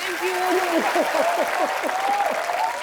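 A studio audience at a television comedy show applauds loudly for a singer, a constant roar of clapping under a prominent voice that speaks over it throughout.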